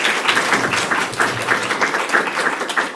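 Audience applause at an astronomy coding workshop after a group presentation, a loud close patter of many hands clapping in a brief, dense burst.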